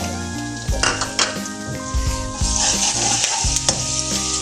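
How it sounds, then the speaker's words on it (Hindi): Ginger garlic paste sizzles in hot oil for a potato and bell pepper curry, a loud continuous hiss broken by repeated scraping and clinking of a spoon stirring against the pan. "इसमें अदरक लहसुन का पेस्ट डालते हैं अब।"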